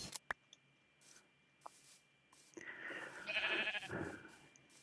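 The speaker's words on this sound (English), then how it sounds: "Ooh, more sheep." Sheep bleating in the Minecraft video game, a few short game-animal calls scattered over quiet moments before a denser stretch of game sound near the end.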